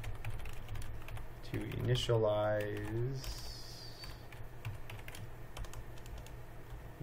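Someone types steadily on a computer keyboard while coding, with light clicks running through the whole stretch and a short burst of speech partway in.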